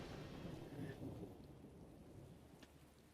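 Gentle rain falls in a steady, faint wash with low rumbling thunder in the distance. The scene is calm and continuous, with no voices.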